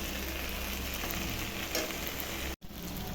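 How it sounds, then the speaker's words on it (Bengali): Chicken cooking for a Bengali murgir do pyaza with fried onion and tomato, a steady close sizzle running throughout with a brief dropout near the end, no voices. "কুচি নিয়েছি, এখন ভাজা পেঁয়াজ আর টমেটোটা দিয়ে দিচ্ছি।"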